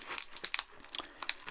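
A small plastic AliExpress parcel bag crinkles and rustles as it is torn open, in quick bursts of sharp, close-up crackling.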